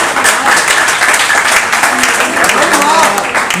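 An audience at a Hindi poetry gathering, a kavi sammelan, gives loud, sustained applause from many hands. The clapping forms a dense, continuous wash that holds steady for several seconds.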